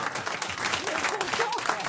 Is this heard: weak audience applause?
yes